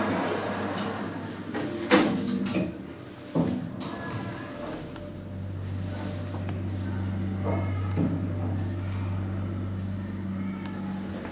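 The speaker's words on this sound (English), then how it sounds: "Doors closing." Schindler lift doors slide shut with a couple of clunks, then the car hums steadily as it travels, a low continuous motor drone filling an enclosed lift space, no talking.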